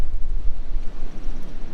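Strong wind buffets the microphone at a lakeside campsite in an Iowa state park during a massive storm, a steady loud rumbling roar without pause and with no one speaking.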